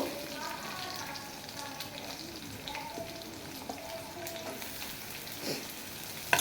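Chopped onion fries in a pan for a catla fish curry with mustard and potato, a steady close sizzle and crackle running throughout at moderate level, with faint stirring scrapes.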